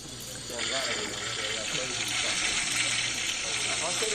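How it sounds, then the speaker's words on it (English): A toilet flush sound effect played from a soundboard surges in after a brief pause, a loud rushing gush of water that keeps churning to the end, with faint voices behind it. "We got the toilet flush all lined up here."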